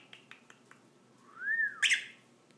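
A pet bird eating waffles gives a few soft clicks, then a rising and falling whistle followed by a sharp, loud chirp, close and alone.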